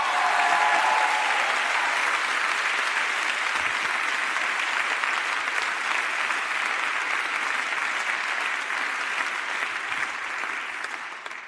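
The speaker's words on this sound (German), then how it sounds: "gib mir noch einmal einen guten Applaus" A church service audience claps in a full, continuous round of applause that holds strong for over ten seconds and tapers slightly at the close, with no talk on top.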